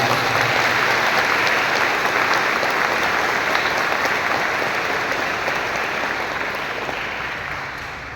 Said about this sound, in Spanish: Un aplauso para la comunidad